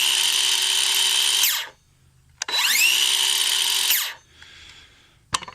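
A Craftsman V20 cordless circular saw runs up loudly twice at close range, each run ending in a quick spin-down from its blade brake, then a single sharp knock follows.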